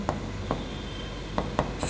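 Pen strokes writing a ratio by hand, a few short scratchy taps and strokes spaced irregularly, close and fairly quiet.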